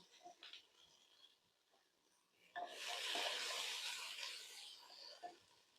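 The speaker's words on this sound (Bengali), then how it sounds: "এখন আমি আলু সিম গুলি ভেজে নেব।" Potatoes and flat beans start frying in a pan of oil, a loud broadband sizzle bursting in partway through and holding steady after quieter clinks and handling sounds.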